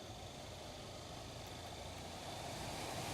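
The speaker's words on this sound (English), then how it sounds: "now I'm going to start the blower" A heater blower fan in a 1997-98 Jeep Grand Cherokee runs steadily after a resistor module repair, a continuous broadband whoosh of moving air with a faint motor hum that grows slightly louder toward the end.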